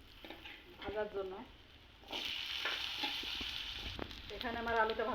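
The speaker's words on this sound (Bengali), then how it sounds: "এবার আমি আলুটা দিয়ে দিব ভাজার জন্য।" Potato fries in a pan of hot oil, a close crackling sizzle with stirring scrapes, and a voice is briefly heard at the start and end.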